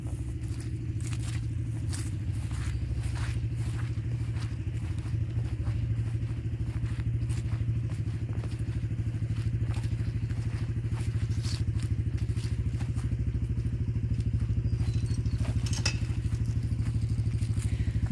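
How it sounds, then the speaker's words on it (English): A four-wheeler idles in a steady low rumble throughout, close and continuous, with faint clicks and knocks on top, on wet, muddy ground while hauling fallen tree limbs. "it's nice to have the four-wheeler for stuff like this"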